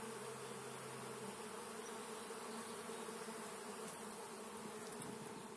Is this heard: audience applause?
no